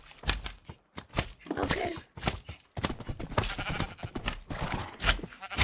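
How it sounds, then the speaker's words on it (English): Blocky Minecraft sheep bleat repeatedly in quick, uneven bursts, loud and close, with footstep-like taps mixed in between the calls. "The sheep are so slow."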